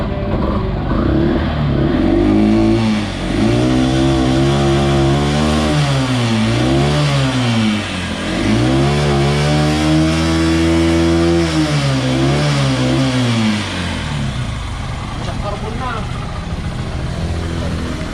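A Yamaha YTX 125 motorcycle, just repaired after a CDI problem, runs loud and close. The engine rises and falls through several revs over a steady idle.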